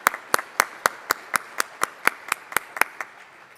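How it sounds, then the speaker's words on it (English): Sharp, evenly spaced claps ring out about four per second, crisp and close, like a single person clapping steadily. "let's give our diamond level sponsors a round of applause"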